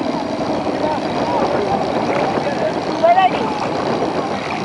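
A boat engine drones steadily during a ride on the sea, a constant low rumble with water wash underneath, while people talk over it.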